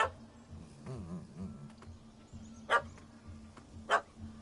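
A dog barks in The Witcher 3: Hearts of Stone, two short sharp barks standing out over quiet game ambience, with some faint whimpering sounds early on and no speech.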